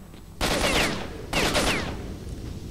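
Two loud, close shotgun blasts roughly a second apart in the video game S.T.A.L.K.E.R. Shadow of Chernobyl, each a sharp crack trailing into a long rumbling decay, with no talk.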